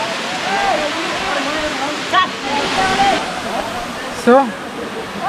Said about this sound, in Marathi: आणि हा महादेव धबधबा.